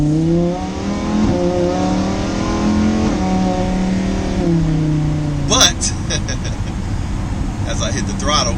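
A Lamborghini Huracan EVO revs hard on the throttle, its engine note climbing in loud rising sweeps before dropping off, with road and tire noise underneath and a few sharp transient knocks near the end.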